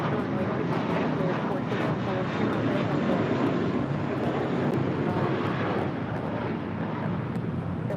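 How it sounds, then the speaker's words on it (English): An American Airlines Boeing 777 arriving from London Heathrow roars steadily as it comes in to land at LAX, a loud, continuous broadband jet rumble that holds for the whole stretch with no break. "There in the background, you can kind of see the American 777 coming in from London Heathrow, flight 137"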